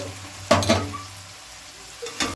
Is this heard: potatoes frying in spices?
yes